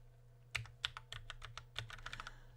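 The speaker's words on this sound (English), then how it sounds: "So I'm typing the command." Brisk keystrokes on a computer keyboard as a command is typed, a close, quiet run of irregular clicks and taps with no talking.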